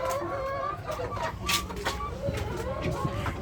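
Chickens on a poultry farm clucking at morning feeding time, with overlapping hen calls and a brief rooster-like cry over steady farmyard background noise.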